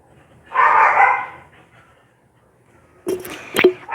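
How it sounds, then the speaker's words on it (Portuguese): Two bursts of dog barking from more than one dog, a loud close bark early, then a pause and a sharper cluster of barks near the end, with no talk. "eu não acredito que esses cachorros estão assim, estressados"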